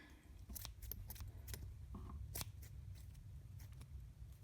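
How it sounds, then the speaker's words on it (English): Scissors snip through a length of string for a paper craft, giving a few quiet, sharp clicks and crunches spaced irregularly and heard up close. "Scissors."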